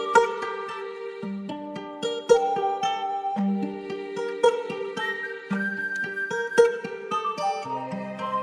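Dark African trap melody of piano and choir layered with plucked guitar, a repeating pattern of note phrases with light rhythmic accents, played alone without drums.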